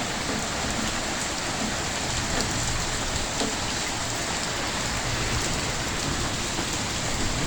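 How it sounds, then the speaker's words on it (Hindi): Heavy rain pours down steadily outdoors, a dense, loud, continuous hiss of drops striking surfaces with no pauses and no voices. "बारिश बहुत तेज़ है।"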